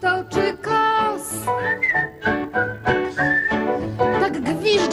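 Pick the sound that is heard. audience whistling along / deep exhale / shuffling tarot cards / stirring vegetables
audience whistling along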